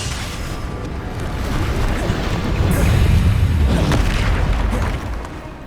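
Bombarda spell explosion in Hogwarts Legacy, a deep rumbling boom that builds over a couple of seconds, swells loudly, then fades away, heavy and close.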